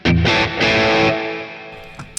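Crunchy distorted electric guitar chords through a Boss Katana amp with bright plate reverb, two loud strummed hits ringing out and decaying into a shimmering tail, played alone.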